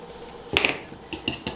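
A scraper scrapes melted butter out of a cup for blueberry muffin batter: two quick, close clicks and scrapes, then a few lighter taps, all quiet apart from these brief utensil sounds.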